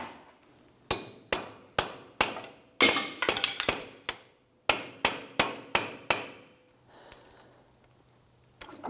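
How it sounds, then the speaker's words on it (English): Repeated sharp hammer blows on a metal punch, driving a CV axle through the hub of a 2008-2013 Nissan Rogue, in two quick bursts of about five and six loud, evenly spaced metallic strikes with short ringing decay, then quieter clinks. "You can use that punch on the front side of that axle to try and push that through a little bit easier."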